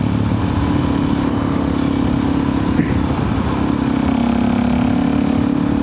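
A Suzuki DR-Z400 supermoto motorcycle rides along, its engine a steady loud drone with wind rush throughout, holding a fairly constant pitch with a slight change in tone partway through.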